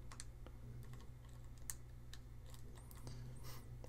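Quick, clacky keystrokes on a mechanical keyboard, irregular bursts of clicks close up against a low steady hum.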